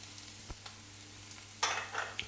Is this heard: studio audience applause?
no